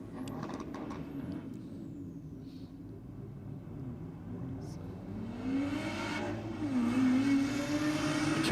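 Four-wheel drive drag car launching at Sydney Dragway, a low engine rumble building into a rising, revving howl that grows louder toward the end, with a commentator talking over it.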